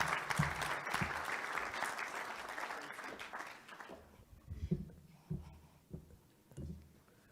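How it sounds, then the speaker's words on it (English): Audience applause at a business forum, a steady wash of clapping that thins out into scattered claps toward the end, heard at a distance with no talking. "Please give her a warm round of applause."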